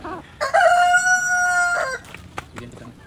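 A Brahma chicken crows once with a long, loud, sustained cock-a-doodle-doo, followed by a few soft, short clucks nearby.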